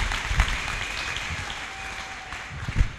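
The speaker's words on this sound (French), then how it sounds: "Can you put your hands together for Jesus?" Audience at a Liberty TV gathering applauds, steady clapping with a few sharper claps, lasting about three seconds without speech.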